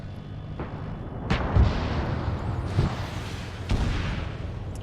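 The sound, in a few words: tank cannon firing in a video game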